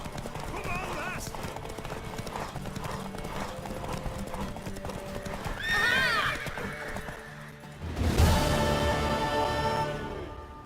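Rhythmic hoofbeats clop steadily as a horse runs in The Witcher 3, with a loud whinny breaking out near the end, over game music and effects.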